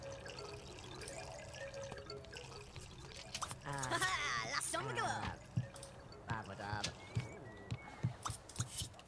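Shower water runs in The Sims 2, a steady, soft pouring hiss with a few drips that sits under people chatting throughout.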